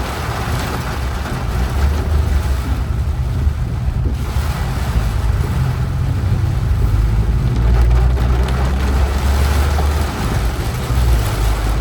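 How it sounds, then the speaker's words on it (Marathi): Heavy rain pounding a car while driving on Holkar Bridge, a loud, constant broadband roar of downpour and road noise that swells slightly at times, heard from inside the vehicle without talking. "बघा किती जोरात पाऊस येत होता"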